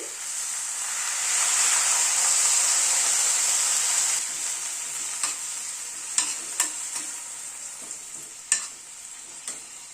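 Hot water poured into a pan of frying spices and spring onion stalks for a fish curry, a loud rushing sizzle and steam hiss that fades into gentle bubbling with several spoon clinks and scrapes.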